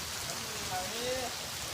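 Rain falls steadily in Paldi as a soft, even hiss. Faint voices can be heard underneath.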